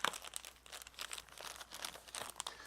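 Plastic wrapping crinkles and crackles as IP cameras from a four-camera NVR security system with dome cameras are unwrapped, a close, steady run of small irregular rustles with no talking.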